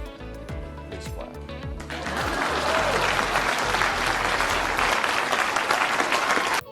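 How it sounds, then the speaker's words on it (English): Audience applause at a presidential campaign speech swells in after about two seconds of someone talking, then holds as a loud, dense, sustained wash of clapping to the end. "Please clap."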